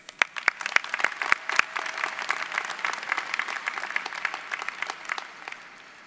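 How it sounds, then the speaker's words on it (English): A commencement audience of families, graduates and faculty applauds, with sharp distinct claps in front over a spreading crowd clapping that builds, holds, then thins out toward the end. "Let's give a round of applause to mine and to yours."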